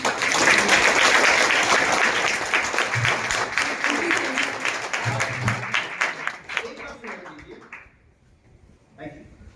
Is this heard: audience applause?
yes